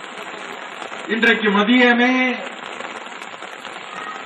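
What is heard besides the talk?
rain falling at outdoor gathering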